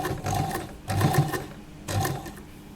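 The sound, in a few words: sewing machine stitching a lehnga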